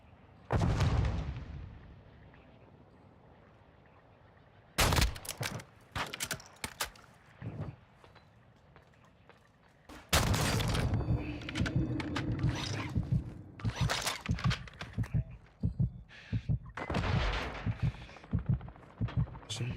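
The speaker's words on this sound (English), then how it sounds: "Somebody's shooting RPGs." RPG fire and explosions in the video game DMZ: bursts of heavy booming blasts and rapid crackling impacts, loud and close, separated by quieter stretches, with a voice talking at times.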